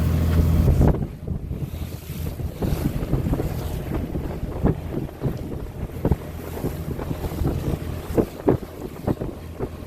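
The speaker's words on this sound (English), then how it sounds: "We got the very cold breeze coming off." Steady, loud wind buffeting the microphone outdoors by the sea, with a low rushing roar and gusty bursts throughout.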